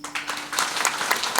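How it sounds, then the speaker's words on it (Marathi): Audience at a Marathi kirtan breaking into loud, dense applause, many hands clapping together close by after a brief quieter moment, with a faint steady tone underneath. "मग जोरदार टाळी वाजवा एकदा"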